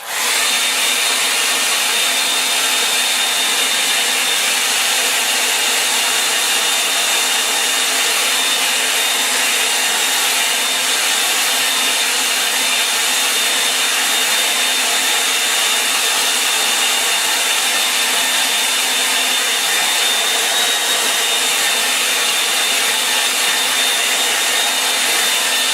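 A hair dryer blowing steadily on a painting of a changing sky over mountains, a loud, continuous, unvarying whoosh with a faint whine, running without interruption and no talking.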